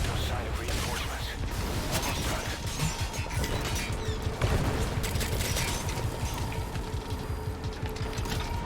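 Dense, continuous gunfire and mechanical clatter from the Metal Gear video game, busy and loud throughout with overlapping shots, impacts and one sharper burst midway.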